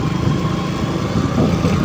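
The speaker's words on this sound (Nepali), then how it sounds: "किनभने मेरो बाइकको साउन्ड लाउड छ" A motorbike engine runs at a steady, loud drone on a road trip, constant low rumble with no breaks.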